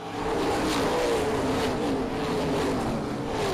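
A field of race cars setting off on a 40-lap race at Springport Motor Speedway on a Saturday night, a steady engine roar heard from some distance, rising slightly in pitch, with no commentary.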